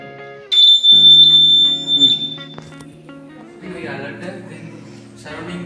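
During a school Engineers Day experiment with a shaker, an alarm goes off as a loud, steady, high-pitched electronic tone for about a second and a half, then fades under voices talking.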